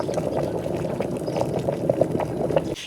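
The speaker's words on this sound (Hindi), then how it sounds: "पूरे 5 मिनट बाद पानी ऐसे उबल रहा है जैसे नीचे से ना आग चल रही हो।" Water boiling vigorously in an automatic electric kettle, a close, steady bubbling rumble with gurgling pops that cuts off abruptly near the end as the kettle switches itself off.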